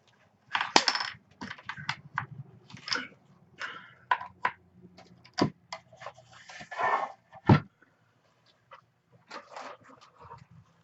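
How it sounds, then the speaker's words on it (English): Scissors snip the angled tails of a ribbon bow for a tree topper, giving a series of short, close, crisp cuts and rustles of ribbon at an irregular pace, with no talking. "I'm going to leave a little bit of tails. Cut them off at an angle."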